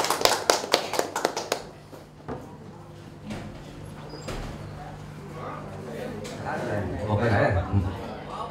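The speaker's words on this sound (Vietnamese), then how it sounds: "Vỗ tay" Hands clap at a wedding ceremony in a quick run of sharp claps near the start, then give way to voices and background chatter.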